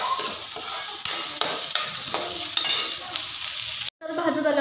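Onions fry and are stirred in a pan for a dhaba-style shev bhaji, a continuous close sizzle broken by repeated scraping strokes of a spoon, then a brief drop in sound before the frying resumes.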